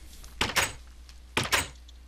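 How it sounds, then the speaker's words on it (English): A wooden door in Minecraft swings with two short, close clunking sounds about a second apart, clear and alone. "Is your door opening?"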